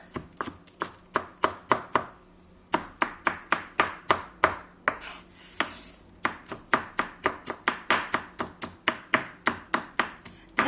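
Rapid, steady knife chops on a cutting board, dozens of sharp strikes in quick rhythm with a brief pause midway, close and clear.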